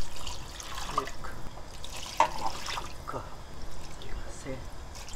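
Water pours into a pot of stir-fried taro stems and shrimp for a perilla-seed soup, splashing and trickling at moderate volume while people talk over it.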